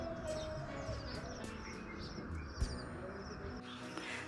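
A ghughuti, a pigeon-like dove, drinks water on a hill farm and calls softly. Faint coos and light chirps drift over a quiet outdoor background, with one brief thump partway through.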